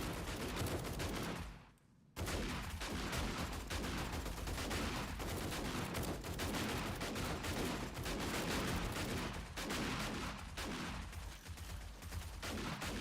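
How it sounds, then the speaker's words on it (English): Dense, continuous gunfire crackles at close range in a loud, unbroken barrage, briefly cutting out once before resuming, in a battle in the video game 7 Days to Die. "So much gunfire, I can't hear y'all."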